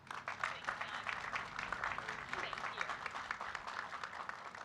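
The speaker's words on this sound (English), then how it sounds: "we need a big round of applause for her" A big round of applause from an audience at a police patrol division station unveiling, with steady, dense clapping that carries through the whole stretch at moderate distance.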